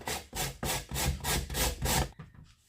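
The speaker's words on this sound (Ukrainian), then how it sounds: "беремо е, терочку із е, меншенькими і натираємо морку" A carrot rubbed over the small holes of a hand grater in a home kitchen, seven steady rasping strokes in an even rhythm, close and fairly loud, then stopping into quiet.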